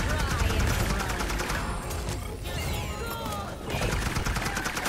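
Viktor fires in Paladins, a rapid rattling burst of close, loud gunfire that continues through the stretch with brief lulls, mixed with game effects and some voice underneath.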